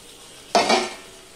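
Tomatoes, green chillies and ginger paste are stirred in a pan: one brief scraping, sizzling swish of a spoon against the metal, close and fairly loud, then quiet.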